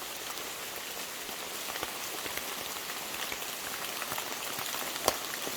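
Steady rain falls on a La Palma hiking trail, a dense, even patter of drops on surfaces with one sharper drip near the end and no voices.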